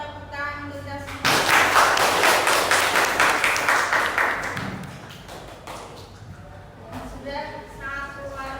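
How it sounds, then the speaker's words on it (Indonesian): Audience of teacher-training participants clapping together in a classroom session, a loud burst of many hands that starts abruptly, holds for a few seconds, then fades, with a voice speaking before and after. "Kalau sudah memberi tepuk tangan untuk kita semua"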